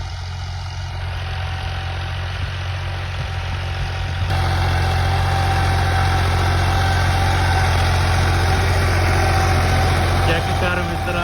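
A tractor engine runs at a steady idle, a loud continuous low rumble that steps up in level partway through and keeps droning, close by and without pauses.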